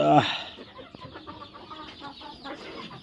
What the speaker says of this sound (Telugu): కోడి ఎట్లా పొడుస్తుంది చూడండి